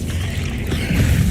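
A Confringo fire spell in Hogwarts Legacy bursts into a deep rumbling boom that swells toward the end, a dense low roar with no voices.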